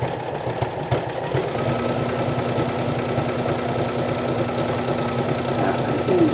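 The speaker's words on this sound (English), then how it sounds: "definitely easier with the sewing machine" A sewing machine stitches a seam through stacked fabric pieces up toward a notch, giving a steady, continuous mechanical hum with a rapid needle rhythm. It runs close and fairly loud throughout, with a brief soft voice near the start.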